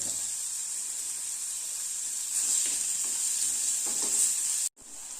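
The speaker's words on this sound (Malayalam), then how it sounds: "അതിലേക്ക് നമുക്ക് ഈ പച്ചമുളക് ഇഞ്ചി കൂടി ഇട്ട് കൊടുക്കാം. ഇതൊന്ന് വഴറ്റട്ടെ." Green chilies, ginger and onion sautéing in a pan for Kerala fish curry, a steady close sizzle with occasional stirring scrapes, ending in a brief cut.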